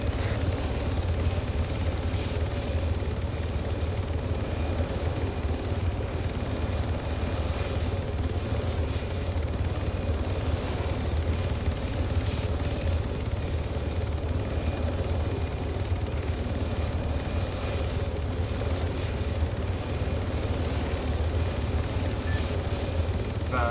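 Hornet helicopter airlifting a technical vehicle in a video game, a steady, loud rotor and engine drone that holds constant and close the whole time, with no voices.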